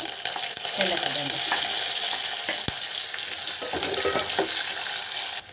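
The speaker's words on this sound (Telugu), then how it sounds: "జీలకర్ర ఆవాలు ఎండుమిర్చి అండి అవి వేగుతాను చూడండి అవి వేగుతాను ఎర్రగడ్డ కరివేపాకు వేసుకున్నాను" Cumin, mustard seeds, dried red chillies, onion and curry leaves fry in hot oil for a tempering, giving a steady, loud sizzle with crackles and a few clinks of a utensil against the pan.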